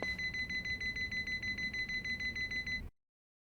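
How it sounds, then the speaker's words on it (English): Steady beeping from a heart monitor in Yakuza: Like a Dragon, repeating in a fast, even rhythm of clear electronic tones at moderate loudness for nearly three seconds before cutting off. "You having a heart attack with all that beeping?"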